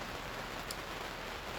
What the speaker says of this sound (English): I'm in the rain in my awning.